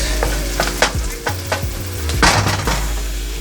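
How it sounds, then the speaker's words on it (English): Thai, red and serrano chilies toasting in a hot pan, with close, loud crackling sizzle and scraping stirs over a low steady hum. "let's toast the chilies. I have Thai chilies in there, red chili, and serrano"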